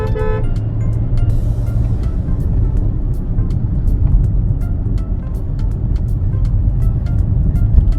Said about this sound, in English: The sound of the car doesn't even seem like you are driving a diesel engine.